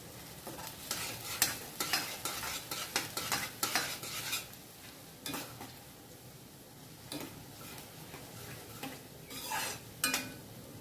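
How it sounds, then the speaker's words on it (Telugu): Spices tempering in a hot pan for soup, crackling and sizzling under repeated clinks and scrapes of a spoon stirring against the metal, moderately close, with no talk. "కొంచెం పోపు వేసుకుంటే మంచిగా అనిపిస్తుంది మనకని పోపు వేస్తున్నాం"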